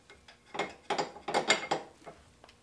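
A hand ratchet clicks in quick uneven strokes while tightening a nut onto a 17 bolt during a DIY K-series suspension job, close and clear with no talking.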